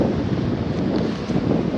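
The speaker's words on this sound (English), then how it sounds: "Oh yeah, it's super windy." Strong wind buffets the microphone at Playa de Mar Chiquita, Puerto Rico, a loud continuous rumble over the short stretch with no talking.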